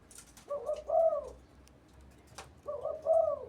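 A caged dove coos in two phrases with a pause between them, each a low, rolling call repeated at a steady pace, fairly close and clear against a quiet background.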